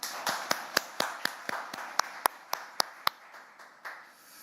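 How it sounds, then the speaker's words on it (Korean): Journalists clap together at the National Assembly Speaker's first-anniversary press conference, a crisp, rhythmic series of about a dozen sharp claps at a steady pace, close and clear in a quiet room. "서로 박수 한번 크게 치면서 시작하시죠"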